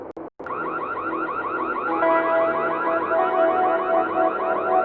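Burglar alarm sound effect, a loud electronic siren warbling in rapid repeated sweeps, continuous and close after a couple of brief opening bursts.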